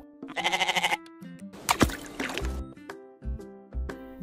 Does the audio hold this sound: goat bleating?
yes